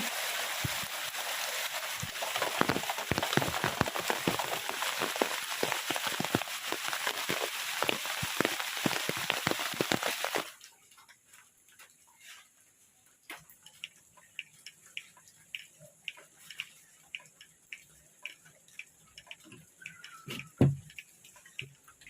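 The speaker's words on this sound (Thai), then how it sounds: "บรรยากาศฝนตกหนักทั้งวันทั้งคืนครับ" Heavy rain at night at an abandoned temple, a dense close patter on a surface for about ten seconds that stops abruptly, leaving scattered drips and ticks in near quiet.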